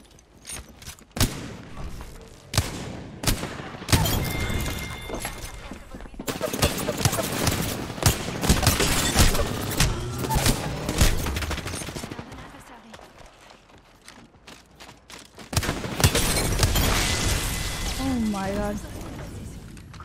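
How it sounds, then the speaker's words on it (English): Wingman pistol shots in Apex Legends, sharp single cracks spaced irregularly among other game gunfire and thuds, close and loud, while someone talks over much of the action. "Wingman shots, man."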